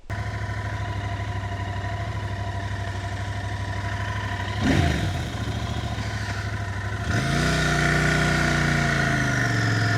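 A motorcycle engine idles close by with a steady low throb, briefly revving around the middle and then settling into a slightly louder, deeper run.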